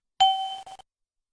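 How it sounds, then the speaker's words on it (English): A single bright chime from the master warning system of a BAe 146-300/Avro RJ cockpit rings once and fades quickly, clear and alone. "high category warnings, which have a single ear and a single non-repeated chime"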